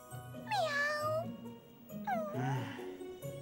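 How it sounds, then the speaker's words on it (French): A stray neighborhood cat meows twice in a cartoon scene, each call a drawn-out, rising and falling mew, with a pause between them over a soft background. "J'espère que ce n'est pas encore un de ces chats qui errent dans le quartier."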